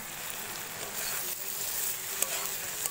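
Food sautéing in a pan gives a steady, soft sizzle with faint stirring scrapes, close and continuous with no talk.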